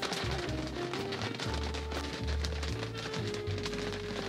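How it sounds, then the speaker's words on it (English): Heavy rain pours steadily in a dense, continuous hiss on surfaces, with a low rumbling undertone throughout and no talking. "It's raining so hard"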